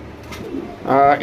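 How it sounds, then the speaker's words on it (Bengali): Pigeons coo low and muffled, then a louder, throaty coo swells near the end, close by, among fancy breeds such as Budapest, Damascene, Lahori and Indian Hyderabadi Nila. "এই কবুতরটা নিতে পারেন।"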